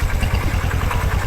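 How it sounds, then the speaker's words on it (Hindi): A motorcycle engine idles steadily after a kick start, a low, pulsing throb with even rhythm, close and fairly loud, with no voices. "ठीक है, स्टार्ट हो गई बाइक"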